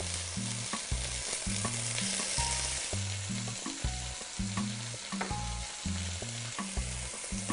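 Meat browns in hot olive oil in a pan, giving a steady, close sizzle and crackle with faint pops throughout, under a low repeating blocky tone in the bass.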